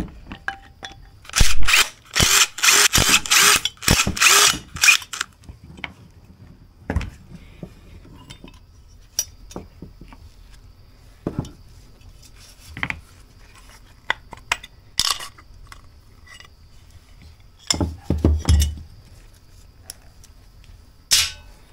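Small metal parts of a 2004 Kawasaki Mule carburetor being taken apart on a workbench, a loud burst of rapid metallic clinks and rattles followed by scattered sharp taps, clicks and a few more clatters, alone without talk.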